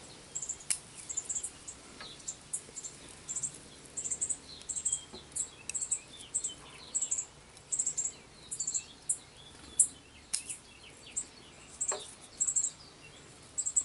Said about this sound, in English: Birds are having a nest out here, and they don't like me being out here.